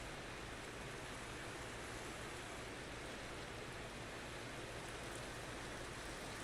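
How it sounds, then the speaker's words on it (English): Steady Minecraft rain in a cozy hardcore survival game: an even, unbroken hiss of falling drops that stays level from start to finish with no talking. "Oh, it's raining."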